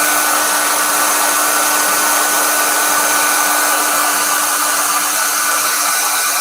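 A hair dryer blowing up close to dry paint on a painting, a loud, steady whoosh with a constant motor whine throughout. There is no speech.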